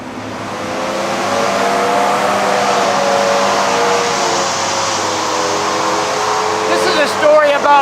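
A 2008 Ford Super Duty pickup engine with 650 foot-pounds of torque revs up and holds a loud, steady roar close by, with rising harmonics and a slight flutter near the end.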